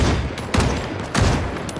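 Gunfire in the zombie survival game Project Zomboid: two or three sharp, loud bursts at a steady spacing, each decaying into a busy, noisy background, with no voices.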